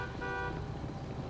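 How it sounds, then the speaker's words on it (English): A car horn honks in a video game where a car has been turned into a driving mine, a short toot over steady game noise and engine hum. "Don't honk at me, I honk at you."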